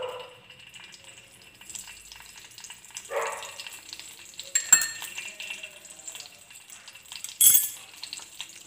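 Two spoons of pure homemade ghee sizzle in a pan for a date kheer, a soft steady crackle with a few sharper clinks of a spoon against the metal.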